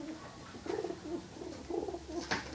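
Domestic pigeons coo softly in low, rolling phrases, repeated several times at close range, with a faint click and no talking.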